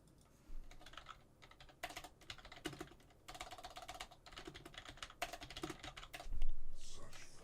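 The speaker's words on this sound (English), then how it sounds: "Stop typing!" Rapid computer keyboard typing during a League of Legends match, coming in irregular bursts of close, clicky keystrokes with short pauses, plus a brief louder thump near the end.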